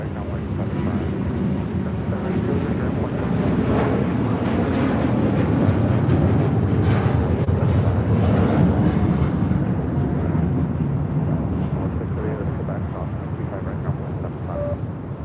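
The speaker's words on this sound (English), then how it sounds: "This 787-9 Dreamliner is taking off to Seoul." A Boeing 787-9 Dreamliner takes off from LAX bound for Seoul, its engines a loud, steady roar that builds slightly, then eases, with some wind buffeting and occasional talk underneath.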